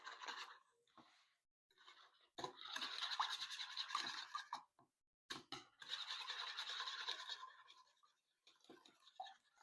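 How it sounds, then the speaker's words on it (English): Cookie dough ingredients being whisked in a bowl, heard as bursts of quick scraping, rustling strokes close by, pausing between runs of mixing. "Whisk."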